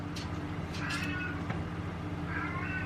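A cat yowls from the living room in two drawn-out, wavering cries, somewhat distant, over a steady low household hum.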